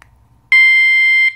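An Antusi Cicada A6 bike alarm sounds its unlock signal: a short chirp, then a piercing, very loud electronic tone held steady for under a second and ending in a brief final chirp.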